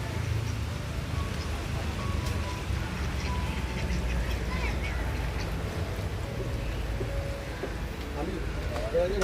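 Ducks quacking at a zoo amid a steady rain-like wash of noise, with people chattering in the background throughout.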